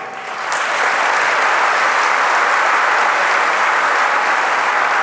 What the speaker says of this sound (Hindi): और ऐसी ताली आज बजाओ